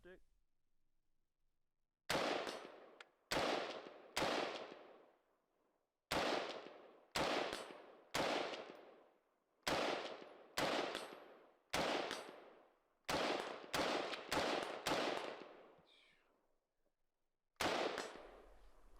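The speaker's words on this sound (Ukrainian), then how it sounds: "Стрілятиму на дальність." About a dozen sharp rifle shots fired at long range on a ranch, each a loud crack with a trailing echo, fired one at a time at irregular intervals with quiet gaps between.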